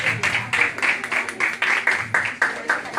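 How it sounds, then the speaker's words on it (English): A small group at a networking skills workshop claps together in a steady, fairly close round of applause, individual claps rising and falling in a loose rhythm with little else behind them. "Again, everybody give themselves a round of applause."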